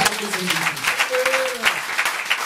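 A church congregation applauds during a sermon, steady clapping through the whole moment while someone speaks over it.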